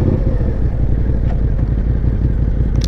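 A Suzuki SV650 motorcycle cruises slowly on an early morning ride. Its deep, steady engine rumble is loud and close, pulsing evenly without revving, alone and without talk.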